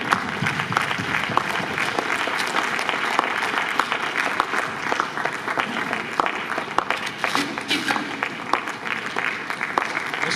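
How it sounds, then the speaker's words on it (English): Sustained audience applause fills a hall at a plenary session as a chef and photographer is welcomed to the stage, steady dense clapping throughout with a faint crowd murmur beneath. "Let's keep the applause going"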